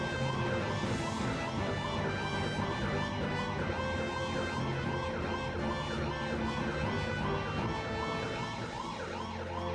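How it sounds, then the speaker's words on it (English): A looping police siren sound effect in a video game, reused from Sonic Adventure, wails in steady rapid up-and-down cycles, loud and continuous throughout. "this is the Sonic Adventure police siren as well"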